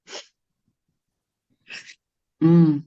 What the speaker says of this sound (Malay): Tak tahan batuk ni.